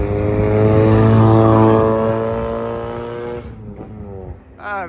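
An Audi RS3 accelerates hard with a loud, rising engine roar and strong harmonic whine, then backs off and fades into lower rumbling and a brief voice near the end.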